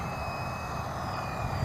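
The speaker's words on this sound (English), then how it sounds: "I can't even see the helicopter." A remote control helicopter flies overhead with a steady, thin whirring drone that holds an even level throughout.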